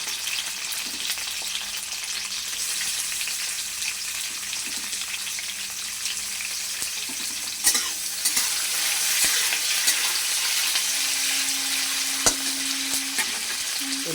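Triangular pieces of paneer fry lightly in a pan with a steady sizzle throughout, occasional scrapes and taps of stirring, and the frying grows slightly louder partway through.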